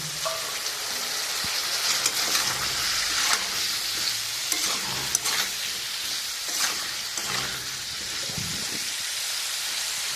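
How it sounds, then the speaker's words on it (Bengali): Fish sautéing in a pan with ground spice paste water makes a loud, continuous sizzle with a bubbling hiss, and stirring scrapes recur every second or two. "বেটে নেওয়া যে মশলার জলটা ছিল ওইটা দিয়ে আমি আবারও ভালো করে কষিয়ে নেব"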